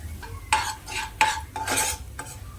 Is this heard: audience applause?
no